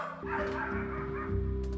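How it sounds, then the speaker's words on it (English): Dog barking heard in an album track, a couple of yips woven into dense, loud music with vocals over a steady low beat. "He's fighting with another dog."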